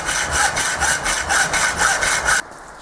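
A saw cuts a slot into a metal nut in a machining workshop, with steady rhythmic back-and-forth strokes up close for a couple of seconds before stopping abruptly.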